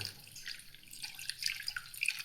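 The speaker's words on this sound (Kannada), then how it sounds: "ಒಂದು ಲೋಟದಲ್ಲಿ ನೀರು ಹಾಕ್ಕೊಂಡು ಹೆಸರು ಬೇಳೆ ಹಾಕ್ಕೊಂಡು ಅಷ್ಟೇ ಒಂದು ಲೋಟ ನೀರು ಹಾಕ್ಕೊಳ್ಳಿ" Water poured into a cup or glass before adding moong dal, during home cooking for a Sankranti festival meal; a soft, steady trickle with light dripping, alone and fairly quiet.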